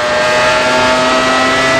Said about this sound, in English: How many revs are you doing, Bob?